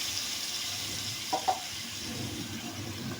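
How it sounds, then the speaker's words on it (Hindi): Half a cup of water poured into sweet vermicelli frying in a pan over a low flame gives a steady soft sizzle and hiss, with a couple of brief splashes near the middle. "अब मैं आधा कप पानी का इसमें और शामिल करूँगी।"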